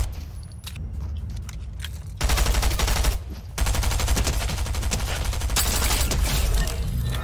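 Bursts of rapid submachine gun fire in a video game, dense fusillades cutting in and out with short pauses, loud and close.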